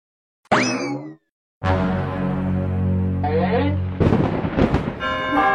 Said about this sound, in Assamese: কেনেকৈ যে বিজুলী মাৰিলে